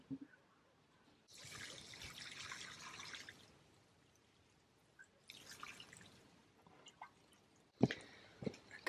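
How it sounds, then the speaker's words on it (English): A young globe artichoke seedling on a small off-grid farm is watered in winter, giving two soft bursts of hissing spray and pattering onto soil and leaves, followed by a few faint drips and sharp taps, with no talking. "I'll give that some water."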